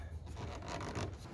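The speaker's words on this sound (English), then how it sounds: "Might as well take this trim off while I'm at it too" Interior trim being pried and pulled off a Jeep Cherokee XJ door, a continuous close rubbing and scraping of plastic with brief rasping pulls, steady and fairly quiet throughout.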